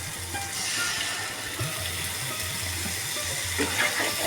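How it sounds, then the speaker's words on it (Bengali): Water is poured into a pan of prawn poppy-seed curry, giving a steady close rush and gurgle with a faint sizzle underneath, while a voice speaks briefly. "এখন আমি জল দিয়ে দিচ্ছি"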